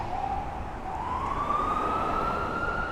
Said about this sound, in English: So here comes the ambulance, probably going to Mass and Cass